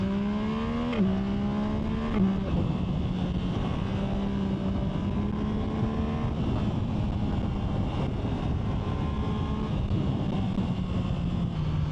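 A Yamaha MT-09 motorcycle with the Y-AMT automated gearbox, recorded through a helmet mic, drones steadily at close range, its engine pitch climbing and then dropping sharply at each gear shift.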